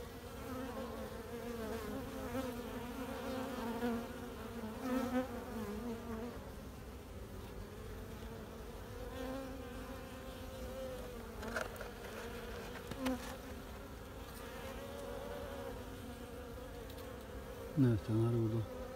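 Honeybees droning at an open hive during an inspection, a dense continuous buzz that rises and falls close to the listener.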